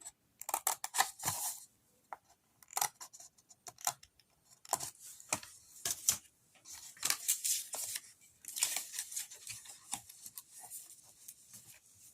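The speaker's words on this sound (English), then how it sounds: "I'm just cutting up on the score line here just to release that tab" Scissors cutting paper card along a score line to free a tab on an envelope box, close crisp snips and rustles coming in irregular bursts with short quiet gaps.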